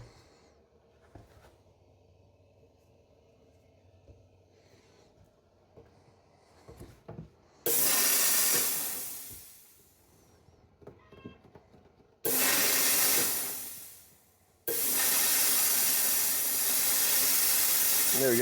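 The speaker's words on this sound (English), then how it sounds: "I'm adding more wet steam, and then if I close it down, there's more dry steam" A cheap Amazon steamer in a dental lab hisses out steam in three loud, sustained bursts, the first fading away gradually, with quieter handling noises and a voice talking in the lulls between.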